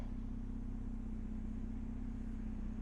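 A quiet, steady low hum with a constant tonal drone comes from a running 2018 Porsche Panamera 4 while its rear spoiler raises, unchanging throughout and with no voices.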